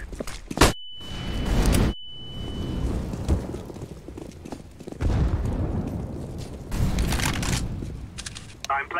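A flashbang grenade in the video game CS:GO goes off with one sharp bang, followed by a steady high ringing tone that lasts a couple of seconds. Muffled rumbling game noise continues afterward.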